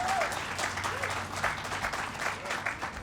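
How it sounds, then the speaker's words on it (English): Applause from a crowd gathered in the office of the Islamic Center of Southern California during a Los Angeles interfaith solidarity march, a steady dense patter of many hands lasting a few seconds, with a brief whistle-like tone at the start. "let's just give a quick applause for Omar."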